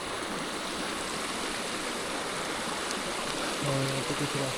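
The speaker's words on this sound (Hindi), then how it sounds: "ये नदी जा रही है," A mountain river rushes steadily along a pilgrimage trek route, a dense, continuous roar of flowing water heard close and loud, with faint voices near the end.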